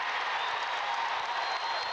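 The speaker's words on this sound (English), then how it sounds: "this is the first time we've seen this crowd get in the ball game" Basketball arena crowd during a Celtics–Pistons game cheering and applauding, a broad steady roar of clapping and voices held at constant loudness throughout.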